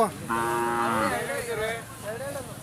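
Cattle at a large historic cattle fair low loudly and close by, one long sustained moo followed by shorter, wavering calls, with crowd murmur faint in the background.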